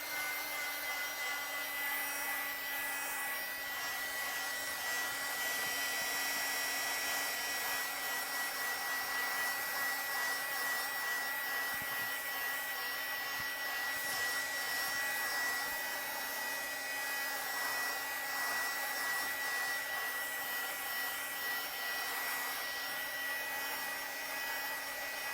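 Hair dryer blowing steadily to dry paint on a journal page, a continuous loud whir with a constant pitch lasting the whole time.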